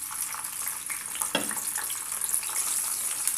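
Cut tomatoes sizzle in a hot pan, a steady close hiss with a brief sharp burst as they go in, with no talking.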